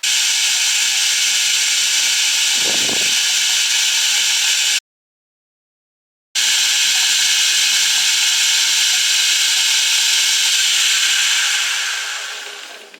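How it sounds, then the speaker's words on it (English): Milling machine trimming bandsaw-cut metal lifting arms for a 1970s caravan pop-top: a steady, loud mechanical whine with a grinding hiss, briefly cut off, then resuming and fading out at the end. "take these over to the mill and just take off the imperfections from the bandsaw"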